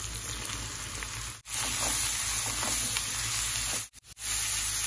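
Mushrooms frying in a pan with chopped onion and salt make a loud, continuous hiss and crackle, close up, broken by a few brief cuts to silence.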